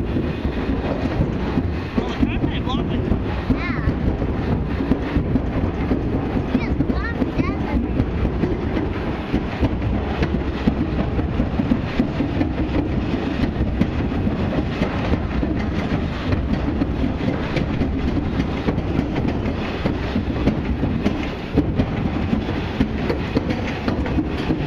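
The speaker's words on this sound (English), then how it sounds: "Not often you get to ride a turntable." A railroad turntable ride at the NC Transportation Museum, a continuous low rumble with steady wind buffeting on the microphone throughout, and faint voices mixed in.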